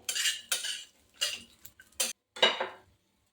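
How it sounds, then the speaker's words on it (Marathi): Sesame seeds roasted on low heat in a pan, stirred with a utensil in short scraping bursts separated by brief pauses, close and clear, with no talking. "तीळ तडतड होईपर्यंत म्हणजे तीळ छान असे भाजेपर्यंत आपल्याला हे परतून घ्यायचं आहे"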